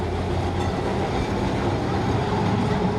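A tram rolling along its rails in West Bengal, a loud, continuous rumble with clattering wheels heard from on board, steady throughout with no talking.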